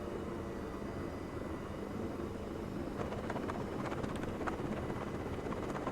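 An aircraft in the Arma 3 video game skids along a road with a steady, loud engine roar and scraping rumble, with clicking grit and rattle joining partway through.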